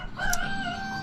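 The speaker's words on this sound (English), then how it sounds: "These roosters are so loud." A rooster crows nearby at a rural home building site, one drawn-out cock-a-doodle-doo call rising and falling over a low background hum.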